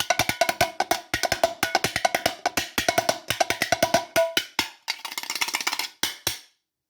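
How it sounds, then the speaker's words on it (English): A spoon striking a baked bean tin in quick rhythmic patterns, dozens of sharp metallic clanks with short ringing decay, close and loud, ending with a few spaced final hits. "I might use my baked bean tin and a spoon"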